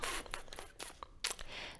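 Playing cards from a Hero Realms deck-building game being shuffled by hand, giving close, soft riffling and crinkling bursts in irregular clumps over a quiet room.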